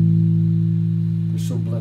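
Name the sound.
consonant note played on guitar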